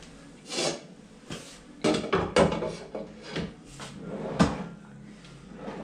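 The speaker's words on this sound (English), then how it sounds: "Nice soft closed drawers." Soft-close kitchen cabinet drawers on a mobile kitchen island glide shut several times, a series of muffled wooden thuds and slides with faint rattling of pots inside, heard close with no talking.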